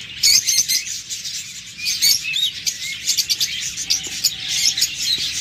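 Budgerigars and cockatiels kept as pet birds for sale, a dense flock of high chirps and tweets with occasional wing flutters, continuous and close, with no talking.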